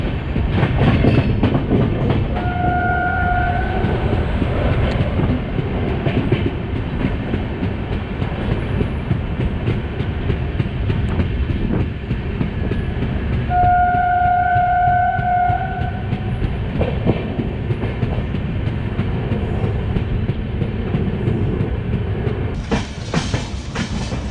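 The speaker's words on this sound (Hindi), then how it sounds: "तो दोस्तों ये आ गई है पटना तेजस राजधानी एक्सप्रेस।" The Patna Tejas Rajdhani Express passes close by with a loud, steady rumble of wheels and carriages, and horn blasts ring out twice, early on and again midway.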